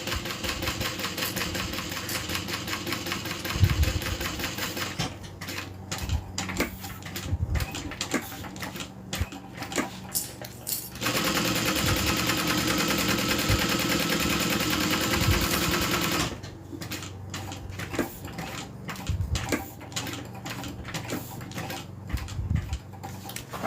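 A sewing machine, hand-cranked around corners while making a notebook holder, gives close, rapid mechanical clatter in runs of stitching. The runs alternate with slower, uneven ticking and pauses.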